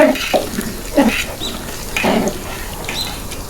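A spoon stirs thin khichuri in a pot after green chilies go in, making a few wet, sloshing scrapes close by, loud and quick, with no talking.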